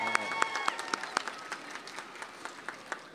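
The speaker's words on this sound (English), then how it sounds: "like to give another big round of applause for all of the entertainment here tonight" Audience applause at an outdoor holiday tree lighting celebration, sharp distinct claps close by standing out over a softer spread of clapping from the crowd, tapering off over a few seconds.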